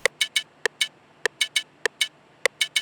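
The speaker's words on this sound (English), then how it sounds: "I added these Moombahton percussions." A Moombahton percussion loop in a remix production: crisp, clicky hits in a repeating syncopated pattern, bright and close, with short sharp transients and no voices.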